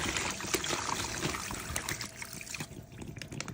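Cold water trickling and splashing steadily as it's poured over a turkey for brining, a continuous close-up liquid sound with small spatters.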